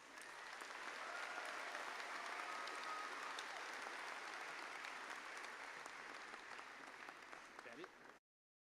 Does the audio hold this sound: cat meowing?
no